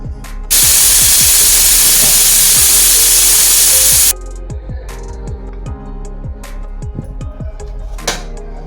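A pressure cooker whistles loudly, releasing a steady, piercing hiss of steam for about four seconds while cooking a raw banana pulusu, then stops, leaving quieter kitchen background sounds and faint clicks.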